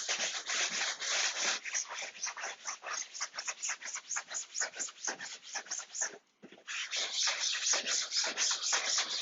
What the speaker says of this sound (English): Rinse it, squeeze out your sponge, go on to the next panel